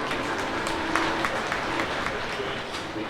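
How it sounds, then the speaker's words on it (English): An outdoor crowd applauds after a full pull at an antique tractor pull during the 2009 Midwest Old Threshers show, steady dense clapping heard from a distance and spread across the whole stretch with some crowd noise. "Give him a big round of applause."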